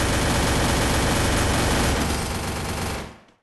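Gunfire in the mobile battle game Free Fire: a continuous, loud burst of rapid automatic shots fills nearly three seconds, then cuts off and fades quickly, with no talk over it.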